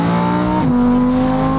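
A Lamborghini V12 car drives with a loud, steady engine drone from inside, the pitch dropping as it shifts gear partway through.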